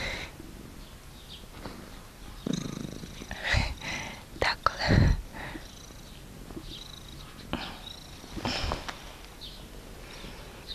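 Cats purring up close in a quiet home, a soft continuous rumble broken by small handling noises and taps, while a person whispers over it.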